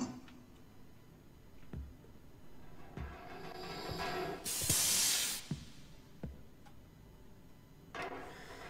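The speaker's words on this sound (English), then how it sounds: "Come on, the steam vent." Steam vent in the horror game Monstrum releasing a loud, sustained hiss of about a second midway through, framed by scattered faint clicks and ticks with no talking.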